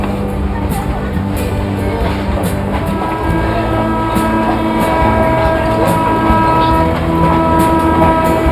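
A passenger train in northern Brazil rolls steadily along, its loud continuous rumble and rail clatter dense and close, with faint periodic clicks of wheels over joints throughout.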